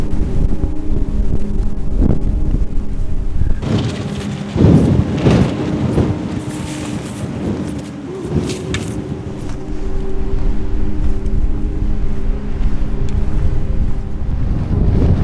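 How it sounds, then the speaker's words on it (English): Strong winter storm wind buffets loudly and continuously at the Grand Canyon, with irregular flapping and rustling bursts of tent fabric, rising and easing in gusts, no voices. "tent flapping back and forth."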